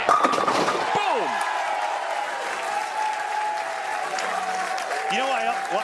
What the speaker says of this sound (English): You know why I like the crowd chanting while the player is on the approach?